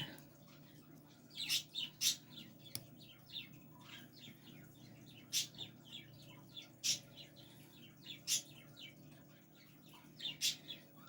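Pet birds chirp indoors in short, sharp, repeated tweets at scattered intervals over a steady low household hum, fairly close and moderately loud.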